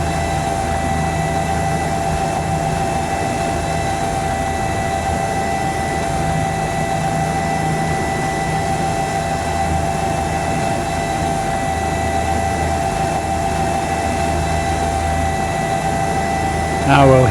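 Simulated Bell 206 helicopter in X-Plane, its engine and rotor drone holding steady and close for the whole stretch with a constant whine on top and no talk.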